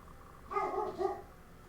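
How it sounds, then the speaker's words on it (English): A pet dog barks a couple of times in a room, heard faintly in the background behind gameplay of Super Mario Maker 2, with two short yelps close together. "it's just my dog"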